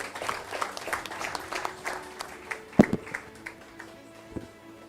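An audience at an agricultural and fisheries award ceremony claps in a moderate, scattered patter that thins out over a few seconds, with a few sharper isolated claps near the end.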